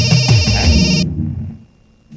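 A mobile phone ringtone plays loudly and close for about a second, then cuts off abruptly into near silence.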